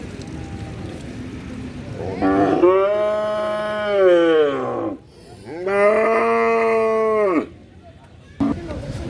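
Cattle at a Qurbani livestock market in Jamalpur, two long loud moos close by, each a drawn-out bellow lasting a couple of seconds, with market chatter and background noise in between.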